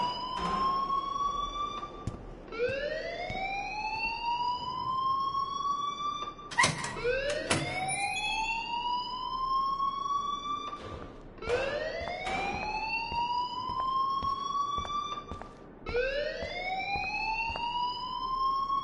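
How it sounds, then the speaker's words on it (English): Fire alarm in a PS4 game, a repeating siren-like rising whoop cycling roughly every two and a half seconds, loud and continuous with faint clicks between cycles. "please turn off that alarm since that's your job."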